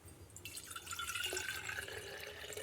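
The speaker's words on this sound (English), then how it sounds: "So first thing we're going to do is put in the water." Water is poured into a life-size plastic cat mouse trap, a soft trickling splash at low level. The flow starts after a brief pause and continues steadily to the end, with no talking.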